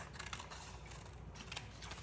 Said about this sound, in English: you want to cut out all of these squares